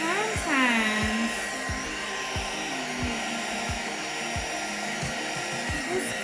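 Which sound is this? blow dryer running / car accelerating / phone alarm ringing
blow dryer running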